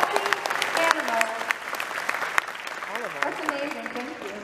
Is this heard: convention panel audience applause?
yes